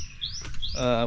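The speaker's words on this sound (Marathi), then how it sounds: "पक्ष्यांचा किलबिलाट" Morning birdsong near a rural farm field in Konkan, a few quick, bright chirps and a rising whistled call, close and clear over a faint background.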